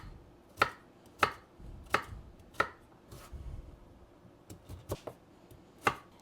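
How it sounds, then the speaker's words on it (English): Root vegetables being cubed on a cutting board with a knife: about nine crisp, sharp chops spaced unevenly, close and distinct against a quiet background, with no speech. "And we're just going to cube these up."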